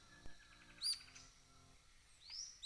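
Rough-legged tyrannulet calling in southeastern Brazilian forest: a few brief, high, thin chirped notes, spaced apart and fairly faint against quiet background.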